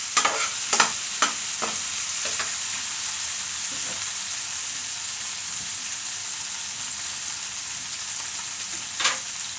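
Tilapia and lemongrass stirred in a frying pan, with a steady high sizzle and a cluster of quick utensil clicks and scrapes early on, then a long stretch of frying before one more scrape near the end.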